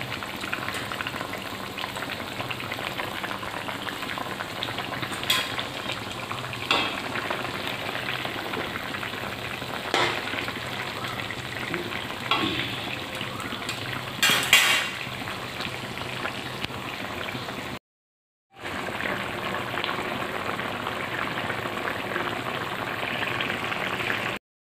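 Pointed gourd and fish frying in a pan for a Bengali fish curry, a steady crackling sizzle running throughout with a few brief louder spatters, no talking.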